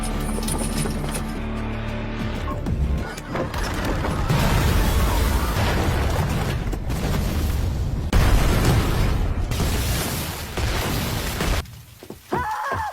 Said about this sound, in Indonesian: tidak hanya kuil saja yang meledak, tetapi juga ruangan besi yang tepat berada di belakang Andu dan Jilong